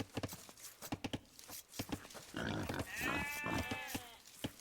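Sheep bleat in the real-time strategy game Age of Empires, a few wavering cries near the end rising over a busy bed of clicks and game sound effects, with no voices.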